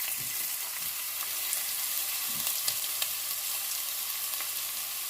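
Garlic ginger paste fries in a pan for chana mash dal, giving a steady, close, even sizzle with faint stirring scrapes and no talking.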